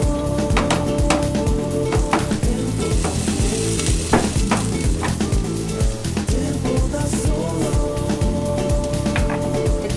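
Chicken pieces fry in oil in a large frying pan, a loud continuous sizzle broken by crackling pops and the clatter of stirring, with no one speaking.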